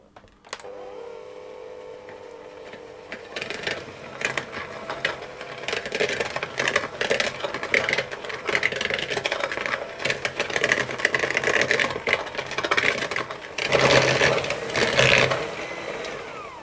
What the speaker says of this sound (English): And for that I'm going to use my hand mixer.